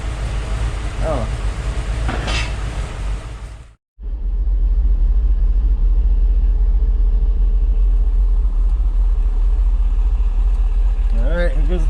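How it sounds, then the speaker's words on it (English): A 1989 Jeep Grand Wagoneer fitted with a 727 Torqueflite transmission idles with a deep, steady rumble. The sound drops out briefly, then returns louder and fuller, with someone talking intermittently. "Yeah, I've got my truck running."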